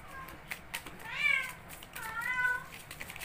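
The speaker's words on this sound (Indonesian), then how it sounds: "Dia lagi birahi, jadi suaranya seperti itu, suka ngeong-ngeong." A cat in heat gives two drawn-out, wavering meows about a second apart, fairly close over a quiet room background.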